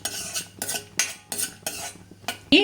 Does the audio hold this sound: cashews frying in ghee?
yes